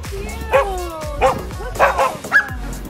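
Several puppies bark and yip in short bursts beside an old World War II train car used as lodging, with a few distinct yaps and whimpery cries close by over a low steady hum.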